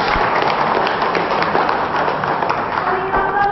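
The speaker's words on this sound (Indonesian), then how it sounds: "Tepuk tangan dulu dong" An audience claps loudly and continuously throughout, dense and close, with voices mixed into the applause.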